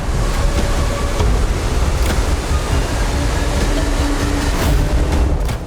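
A waterfall in the Abujhmarh forest, near a remote village, gives a loud, steady roar of rushing water that fills the air without a break, close by, with no voices.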